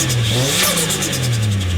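Turbocharged 4.0L Intech drift car engine revving hard in short bursts, with a whistling turbo and blow-off hiss, loud and close with no voices.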